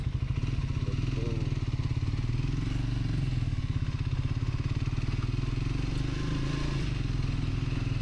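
A motorcycle engine runs steadily throughout a morning ride near the palace in Mysore, its low rhythmic thrum continuous and close, with faint rattles and road clatter layered over it and no talk.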